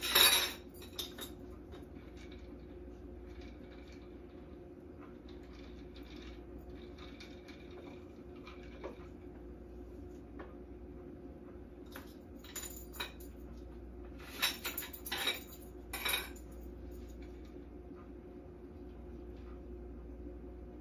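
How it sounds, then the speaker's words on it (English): An apple being sliced with a knife during mojito preparation, heard as faint, sporadic cuts and light clinks of the blade against a board or dish, with a cluster of crisp taps near the end. "So I'm just basically taking an apple and I'm slicing it."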